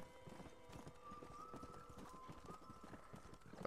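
Steady clip-clop of horse hooves in the video game Red Dead Redemption at a brisk rhythm, close and fairly loud, with a faint whinny-like tone and game-style ambience underneath.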